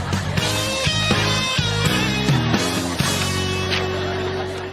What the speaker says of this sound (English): Friends all sound like this weird pop rocky kind of thing.